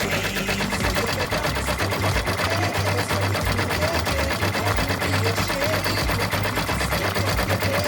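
A Brother or Melco embroidery machine stitches a design in a continuous, loud, rapid mechanical chatter with a steady rhythmic pulse that holds throughout.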